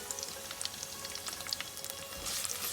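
Sliced garlic and fresh ginger fry in a pan for a village-style baby onion (shallot) curry, giving a faint, steady sizzle with scattered light crackles and no talking.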